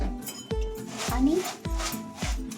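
Puffed rice ladoo mixture with poured jaggery syrup being stirred in a vessel, giving rough rubbing scrapes with several sharp knocks of the spoon against the pot, close and moderately loud, with faint background noise.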